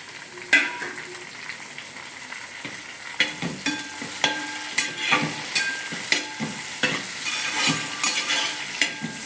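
Prawn fry masala sautéing in a pan with ginger: steady sizzling under repeated sharp scrapes and clinks of a spatula stirring, close and fairly loud, no talking.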